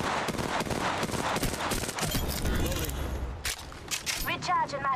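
Rapid gunfire in a shooter video game, dense repeated shots rattling through the first half and then breaking off, mixed with game effects and voices speaking over it.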